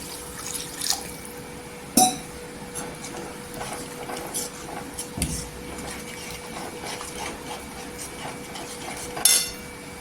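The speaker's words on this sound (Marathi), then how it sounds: "ते पाणी टाकून घ्यायचं नेहमीच पाणी गरम किंवा कोमट घ्यायचं" Warm water is poured into a pan of bhindi (okra) with peanut and coriander powder, giving soft liquid splashes and drips among sharp clinks of utensils against the pot, close and moderately loud with no talking.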